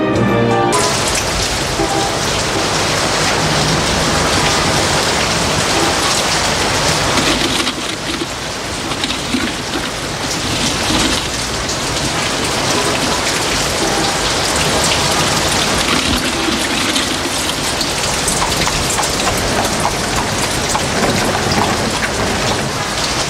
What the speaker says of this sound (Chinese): 哇，外面居然在下雨啊！